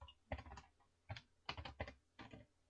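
Typing on a computer keyboard in short bursts of quick keystrokes separated by pauses, close and fairly quiet, with no talking.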